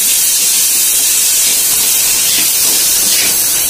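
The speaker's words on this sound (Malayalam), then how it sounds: "ഒരു പഴുത്ത നല്ല വലുപ്പമുള്ള തക്കാളിയാണ്, വലിയ തക്കാളി, അത് ഇതിലേക്ക് ഇട്ട് കൊടുക്കുന്നു." A large ripe tomato drops into a hot pan for Chettinad fish curry, setting off a loud, continuous broad hiss of sizzling steam that holds steady throughout, with no voice.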